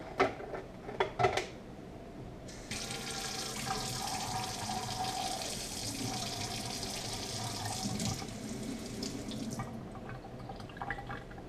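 Tap water runs steadily into a kitchen sink during washing up after baking a pie, a broad continuous rush lasting most of the clip after a few clinks and knocks at the start, with no talking.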